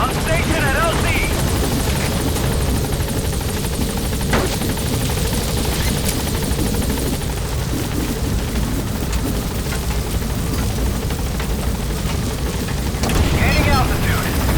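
In Metal Gear Solid V: The Phantom Pain, a support helicopter comes in to a landing zone, its steady, loud rotor and engine roar filling the whole stretch with a slight swell near the end.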